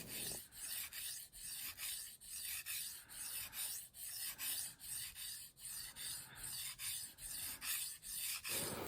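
A knife edge is sharpened on a waterstone with steady back-and-forth strokes. About a dozen rhythmic, close rasping rubs are each separated by a short pause, with no talking.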